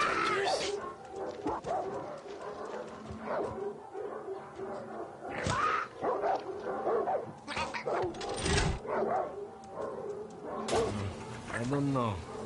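Dogs bark and yip in Far Cry 6 gameplay, several sharp bursts scattered across the scene among other game sounds, with someone talking over much of it.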